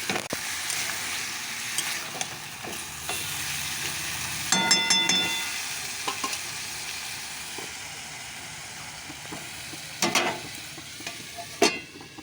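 Chicken kosha fries in a pan with a steady sizzle, broken by occasional louder scrapes and clinks as it is stirred, heard close with no talking.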